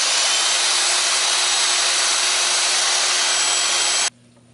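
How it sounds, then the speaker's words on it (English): Steady, continuous rasping of a circular file grinding against a metal coin, harsh and close, running unbroken for several seconds before stopping abruptly. "So now I'm going to use this file right here, a circular file."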